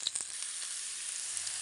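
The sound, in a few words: shallots frying in oil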